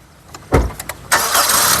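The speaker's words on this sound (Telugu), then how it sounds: "సింగిల్ సెల్ఫ్లో కార్ స్టార్ట్ అవుతుంది ఎటువంటి స్టార్టింగ్ ట్రబుల్ అయితే లేదు" A car engine cranks briefly with a couple of starter bursts, then catches on a single start and settles into a loud, steady close idle, with no voices.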